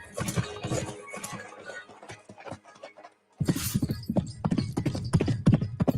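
A horse runs fast, its hooves clopping in rapid, uneven beats under a loud, busy mix of other noise, breaking off briefly before the pounding resumes.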